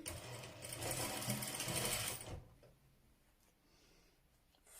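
Sewing machine top stitching the hem of a ruffled baby dress, a close, fast steady whir for about two seconds, then stopping into quiet with faint handling clicks.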